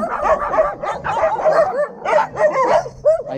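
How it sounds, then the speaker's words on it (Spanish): Many dogs barking at an abandoned brick factory, an overlapping chorus of yips and barks close by, continuous and loud with rhythmic bursts and some whimpering. "Hay muchos perritos por acá."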